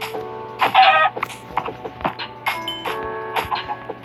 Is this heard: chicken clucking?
yes